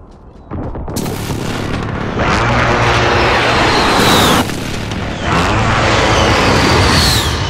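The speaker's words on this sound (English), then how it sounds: "Precision airstrike, take cover!" A precision airstrike in Call of Duty: Modern Warfare, jets roaring overhead followed by heavy, booming blasts in two big waves, loud and close with rumbling aftermath.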